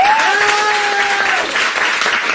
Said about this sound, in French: On peut applaudir pour Aurélie?